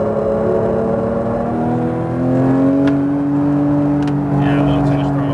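Porsche 992 GT3 engine pulling hard on a race track, a loud, steady rising drone under throttle with its pitch climbing through the gears, close and continuous, while people talk over it.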